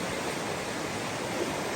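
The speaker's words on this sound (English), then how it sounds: "Looks deep and fast flowing. I guess that's why it's called Deep Creek." Deep Creek in the Smokies running deep and fast, a steady broadband rush of flowing water, close and unbroken.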